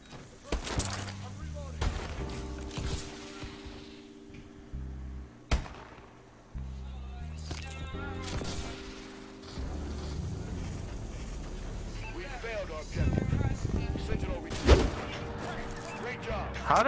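Gunfire crackles through a first-person shooter's search-and-destroy match, with sharp shots and bursts scattered over wind-like game ambience and a steady low drone, while players talk over it.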